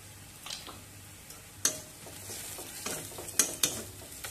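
Ground spices being stirred in a hot oily pan for a rohu fish curry, a soft continuous sizzle broken by a few sharp scrapes and clicks of the spoon, close and quiet, with no talk.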